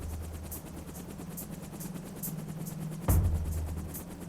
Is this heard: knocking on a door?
no